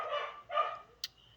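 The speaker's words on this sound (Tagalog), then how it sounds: "Yan po yung aso ko, si Nina." A dog gives two short, close barks followed by a faint high yip, heard clearly with no talk over it.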